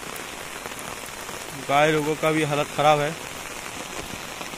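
Rain patters steadily over a village field in Bihar where freshly harvested maize lies out and cows are tethered, a constant close wash of drops while someone speaks briefly over it.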